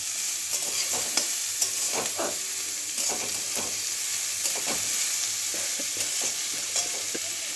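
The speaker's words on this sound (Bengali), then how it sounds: "এবার পেঁয়াজগুলো দিয়ে একসাথে ভাজা ভাজা করব।" Onions sizzle and fry in a pan on the stove as noodles are being made, a steady close hiss broken by repeated scraping stirs of a spatula, with no voices.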